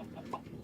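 A chicken gives a short soft cluck on a small farm in a space-themed game, a single faint call over a steady low background hum.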